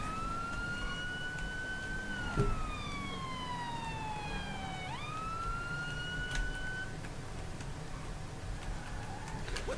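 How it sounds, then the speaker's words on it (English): An undercover police patrol car's siren wails, rising and falling in long sweeping tones before switching pitch, moderately loud over the drone of a moving vehicle, with no talking. "We're just going to use the siren just to get up here"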